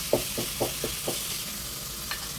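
Chopped tomato hits a hot pan for chicken curry, giving a few quick soft sizzling bursts in a row, then a faint steady frying hiss, fairly quiet and close.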